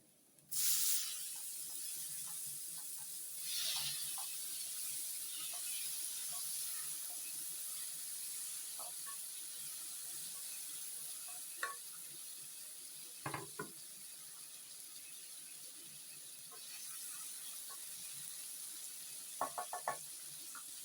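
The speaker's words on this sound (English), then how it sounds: "Next, I will add my tomatoes." Tomatoes hit a hot pan of kienyeji chicken curry with a sudden loud sizzle that settles into a steady hiss, broken by a few sharp knocks of a utensil against the pan.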